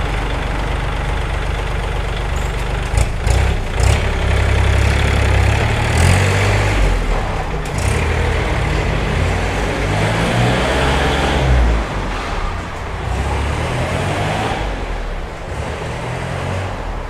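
A used 2019 Kubota L4018 tractor with front blade and three-disc plough idles steadily at close range, its diesel engine chugging with a low rough rumble and slight surges, no voices.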